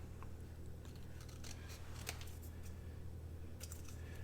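Scissors trimming paper for a journal, a few quiet snips scattered over a low steady hum of room noise.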